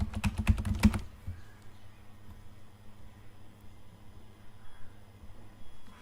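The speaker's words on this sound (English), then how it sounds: "here you have to just type Ad Inserter." Rapid, close clatter of keys typed on a computer keyboard for about a second, then near silence with faint room noise.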